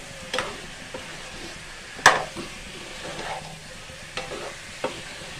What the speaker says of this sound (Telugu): 2 స్పూను ధనియా పొడి వేస్తున్నాను. వేసి ఒకసారి మంచి ఇట్లా కలిపేసి